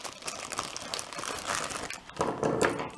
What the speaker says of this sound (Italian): apriamo questa busta di plastica